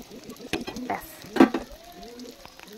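Chicken pieces for chilli chicken fry in oil in a pan over low heat, with a soft sizzle broken by several clattering stirs and utensil knocks, one louder knock near the middle.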